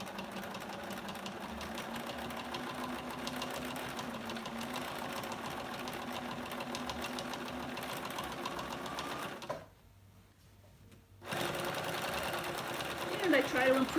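A sewing machine stitches through thick layered oven mitt fabric, including a section already sewn once, running steadily at moderate loudness, stopping briefly, then resuming; speech is faintly present.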